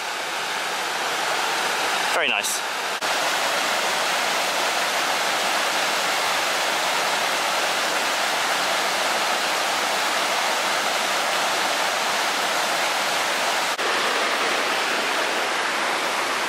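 Steady, dense roar of a waterfall in woodland at Castle Horneck filling the whole clip, loud and close, with a brief spoken remark near the start.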